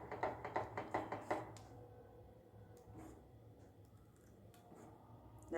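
Malpua batter stirred in a bowl with a ladle, giving a run of close, rhythmic tapping and scraping strokes at the start, then quieter sporadic knocks against a low steady background hum.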